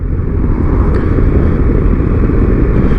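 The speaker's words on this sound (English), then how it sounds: "and just rolling on and off the gas or the throttle, whatever you want to call it, just to gently increase and decrease your speed" A motorcycle engine runs close and loud in fourth gear as the rider gently rolls on and off the throttle, producing a continuous deep rumbling drone with subtle rises and falls.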